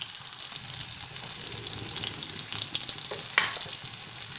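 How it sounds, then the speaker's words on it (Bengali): Onions fry in a pan as a small whole tomato goes in, giving a soft, steady sizzle with light stirring and a couple of brief clinks, fairly quiet. "এখন এর মধ্যে আমি দিয়ে দেব টমেটো।"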